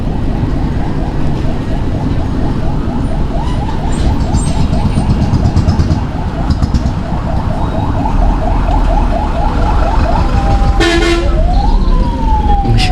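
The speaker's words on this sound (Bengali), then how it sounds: "সেনাবাহিনী যে হর্নটা ইউজ করতেছে," An army vehicle's siren and horn sound through a congested market-street traffic jam in Jashore, Bangladesh, with a rapid warbling wail over constant loud engine and traffic rumble, and a rising siren sweep near the end.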